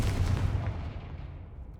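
A Confringo blasting spell goes off in Hogwarts Legacy, one loud close boom that rumbles and slowly fades away over about two seconds.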